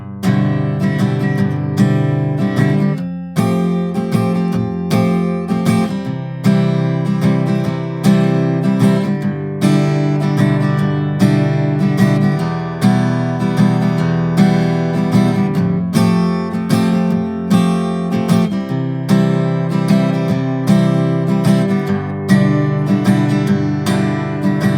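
An acoustic guitar plays the chord progression of a song, strummed loudly and steadily with rhythmic chord changes and ringing strings throughout, with no voices.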